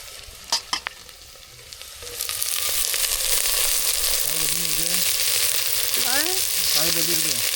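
Onions sautéing in hot oil for a South Indian tempering, with a steady loud sizzle under a few clinks of stirring at the start, and a voice talking over the frying.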